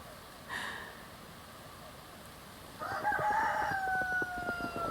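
Roosters crowing outdoors on a quiet, icy winter farm: a short distant call, then a longer drawn-out crow that trails off, moderately far away over soft background ambience.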